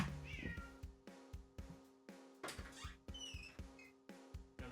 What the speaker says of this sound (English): One sec, let me check my cat.